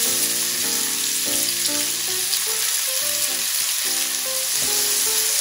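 Chopped onions and garlic hit a hot pan that held lardons and sizzle loudly and steadily, with bursts of crackling and stirring sounds close by and no talking.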